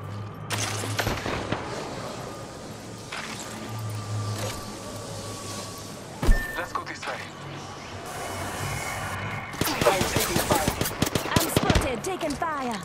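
Shooter-game gunfire: rapid automatic bursts and single cracks, moderately loud, with a dense flurry near the end, layered over game ambience and spoken character voice lines.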